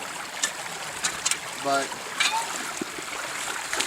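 Shallow stream water, only a couple of inches deep, runs slowly over the riffles of a gold-prospecting sluice box on a Georgia farm claim, a soft continuous trickle and splash under a man's intermittent speech.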